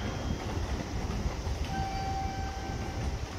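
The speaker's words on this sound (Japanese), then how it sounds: "こだま342Bound for Tokyo is arriving at track number 2." A Tokaido Shinkansen Kodama train pulls into Shin-Yokohama station, a steady loud rumble of rolling wheels and motors filling the platform, with a thin sustained whine rising partway through.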